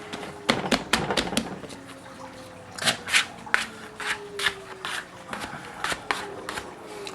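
Floured hands shape and fold sourdough bread dough, producing soft, irregular pats, slaps and brushing taps up close, scattered bursts with brief pauses between them.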